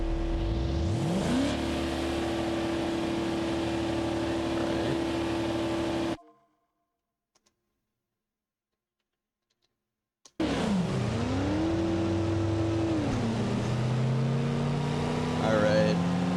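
A 1960 Gavril Bluebuck with a 292 engine in a video game revs and accelerates loudly with rising, falling pitch, cuts to silence for about four seconds, then drives on again with engine note sweeping up and down.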